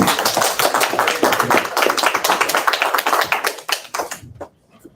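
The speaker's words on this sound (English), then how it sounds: "Another round of applause, please." A room full of people claps together at a talk event, a dense, steady patter of many hands that thins out and stops in the last second.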